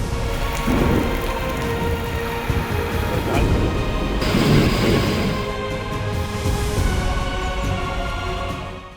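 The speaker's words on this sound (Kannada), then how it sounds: "ಬೇಸಿಗೆ ಮಳೆ ಅಬ್ಬರಿಸಿ ಬೊಬ್ಬಿರಿಯುತ್ತಿದೆ" Heavy summer rain in Karnataka pours down in a dense, steady roar, with low rumbles of thunder rolling underneath.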